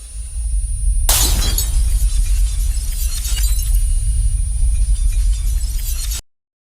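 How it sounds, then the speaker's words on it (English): A conveyor belt smashed to bits: a sudden loud shattering crash followed by several seconds of sustained crunching, breaking debris and rumble that cuts off abruptly. "This woman smashed the conveyor belt to bits."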